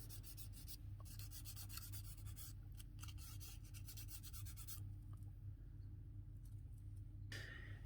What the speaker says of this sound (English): So I'm just going to take my gilding wax and just go over all the edges.